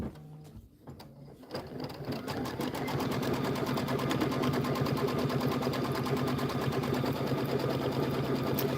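An embroidery machine stitches a tack-down line on background fabric, starting up after a few soft handling sounds and then running in a fast, steady mechanical chatter, close and even.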